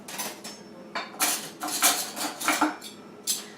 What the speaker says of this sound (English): So I'm going to get 4 spoons because we don't double dip